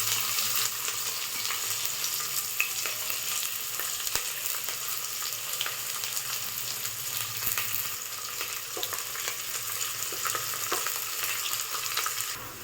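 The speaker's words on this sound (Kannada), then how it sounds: "ಹಾಕ್ಕೊಂಡು ಚೆನ್ನಾಗಿ ಗೋಲ್ಡ್ ಬ್ರೌನ್ ಬರೋವರೆಗೂ ಫ್ರೈ ಮಾಡ್ಕೊಳ್ಳಿ." Onions frying in a pan until golden brown for a village-style vegetable pulao, a steady close hiss of sizzling oil with occasional stirring scrapes, continuous and without talking.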